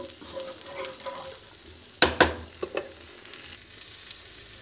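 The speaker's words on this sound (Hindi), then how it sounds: "इसको सिर्फ सिम पे रखेंगे हम, और बिल्कुल हिलाते हुए जस्ट इसको मसाले सिर्फ मिक्स करेंगे दही में" Spices stirred into yogurt in a pan over low heat: a soft bed of faint sizzle broken by a few sharp scraping clatters from the spoon midway, then quieter stirring, all close and without voices.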